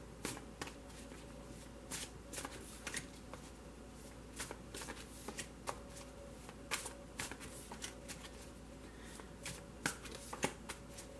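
A deck of tarot cards is shuffled over and over, a quick series of soft papery riffles and flutters that stay close and fairly quiet, with no one talking.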